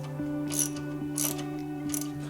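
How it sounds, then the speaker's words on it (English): A ratchet wrench turns the adjustment bolt to tighten a Mazda Miata accessory belt, producing three evenly spaced bursts of ratcheting clicks over a steady tonal hum, close and moderately loud. "turn this adjustment bolt and get it tightened"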